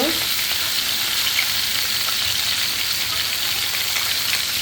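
Koi fish frying in hot oil, a steady, dense sizzle and crackle that holds evenly and close throughout with no voices.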